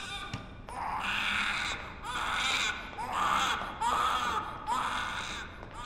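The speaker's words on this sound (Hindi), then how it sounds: "उधर बच्चा रो रहा है और इधर नर्स गायब है" An infant cries in a hospital ward in a dramatic film scene, wailing in four or five rising, sobbing bursts with short gasps between them, steady and fairly close.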